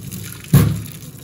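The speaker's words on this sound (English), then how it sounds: "so we're gonna drain the noodles." Cooked noodles are drained, giving one brief, close splash and rush of water that trails off within a second.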